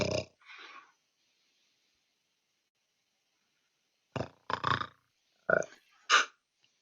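A person imitates a heavy, rumbling snore during a tabletop Dungeons & Donations game, with a few rough bursts at the start, a long silence, then several more close, gravelly snorts and grunts.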